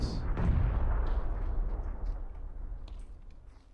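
A grenade goes off in an online shooter game, a single heavy boom with a low rumbling tail that fades over a few seconds, heard without talk.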